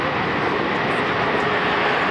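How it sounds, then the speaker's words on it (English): A C-17 Globemaster III reverses along the runway on its thrust reversers at a 2009 air show, making a loud, continuous jet roar that neither rises nor fades. "the airplane you see now, as you actually see it backing up along the runway"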